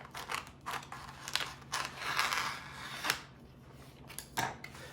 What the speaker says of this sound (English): when you slide it forward, it cuts the bag into a nice shape